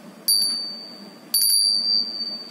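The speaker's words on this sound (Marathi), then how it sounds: "पण आपण एखादा धातू घेतला आणि धातूचा आपण आवाज बघितला तर तो कसा येईल" A metal object is struck twice, each strike ringing out bright and bell-like, much like a school bell, with a long sustained tone that decays before the second hit.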